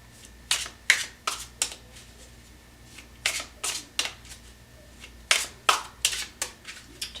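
Tarot cards shuffled by hand in quick crisp riffling bursts, several clusters of sharp flutters separated by short pauses, close and loud with no talking.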